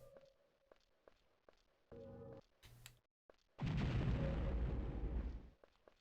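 Retro video game Deathtrap Dungeon: a dense, roaring bomb blast bursts out and rumbles for about two seconds, loud and close, following a few lighter game clicks, thuds and short tonal effects.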